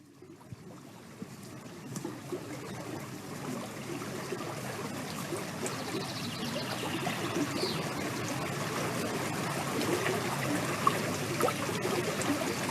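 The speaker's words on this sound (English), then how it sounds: "if you were sitting at the base of this waterfall, feeling the water" Waterfall in a forest, a steady broadband rush of flowing, splashing water that continues unbroken throughout at moderate level, with no voices.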